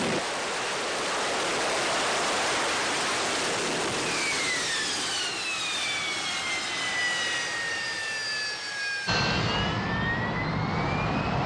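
A Harrier military jet hovers with a loud, roaring engine, a broad steady blast overlaid by high whining tones that slowly sweep downward before the sound abruptly shifts near the end.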